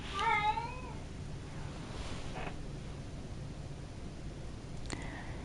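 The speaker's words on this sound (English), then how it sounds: "one of my cats is screaming at a wall" A cat lets out a loud, wavering yowl at the start and a short meow later, heard indoors over faint background hiss.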